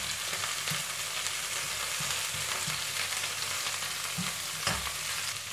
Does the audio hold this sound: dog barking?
no